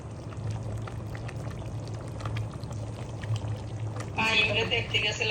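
Biryani meat boils in a pot with a steady bubbling, liquid rumble that stays close and constant.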